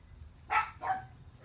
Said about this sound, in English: I hope you guys can't hear the dogs barking.